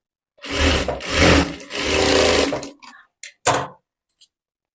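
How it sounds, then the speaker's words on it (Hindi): A sewing machine stitches a folded blouse neckline in close, loud bursts, running in three long runs and then a few short stops and starts. "अब आपको इस तरीके से अंदर की तरफ फोल्ड करना है और गले पे सिलाई लगा देना है।"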